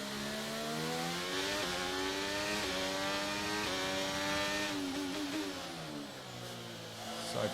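Alpine-powered Formula 1 car in F1 23 screaming at high revs, engine pitch stepping up through rapid gear changes and bouncing on the rev limiter, loud and continuous before easing off near the end.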